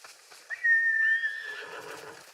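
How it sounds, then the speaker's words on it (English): A single horse in Ghost of Tsushima gives one clear, high neigh that rises and then trails off, heard alone and close with a faint hiss behind it. "Watched my horse disappear."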